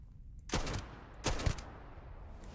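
Two sharp gunshots from the video game Starfield, about three-quarters of a second apart, each with a short decaying tail, heard fairly faint against quiet background.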